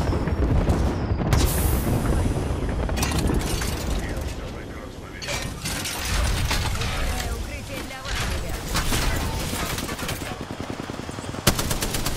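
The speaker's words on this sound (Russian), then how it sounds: "Перезаряжаю" Apex Legends gunfire and weapon handling: rapid automatic bursts, mechanical clicks and ratcheting reload clatter, loud and close, with speech mixed in.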